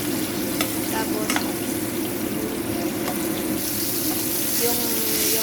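A fish fillet fries in a pan over moderate heat, giving a steady, close sizzle with faint stirring clatter and a few brief clicks throughout.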